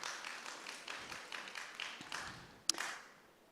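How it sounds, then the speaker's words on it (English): Graduating college students at a class-of-2025 ceremony clap for themselves, a faint, distant spread of hand claps in a large space, with one sharper knock near the end. "Please clap for yourselves."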